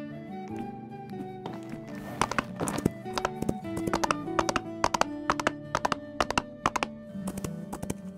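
Horse hoof clip-clop in the Wild Horse Islands video game, a dense run of sharp, evenly paced hoof knocks over a steady tonal game soundscape, with no clear neigh standing out.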